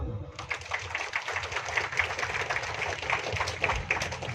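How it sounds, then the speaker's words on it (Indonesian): Audience applause at a Pancasila ideology and national insight gathering in North Sumatra, a dense steady patter of many hands clapping throughout, fairly close, with faint voices beneath. "Tepuk tangan."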